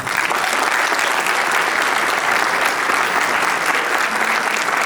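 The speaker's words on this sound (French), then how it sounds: "Est-ce qu'on peut applaudir cet homme, s'il vous plaît?" Loud, sustained applause from a large cinema audience at a film premiere in Marseille, dense clapping that holds steady throughout.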